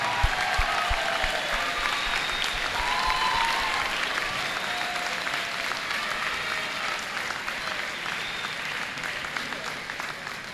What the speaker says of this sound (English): how about another round of applause for our wonderful educators on Educator Appreciation Night